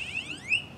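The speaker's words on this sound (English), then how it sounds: "now it's got a buzzer. It can make tones." Small buzzer on a micro:bit V2 board sounding a brief electronic tone, two quick rising chirp-like sweeps within under a second, fairly faint and alone.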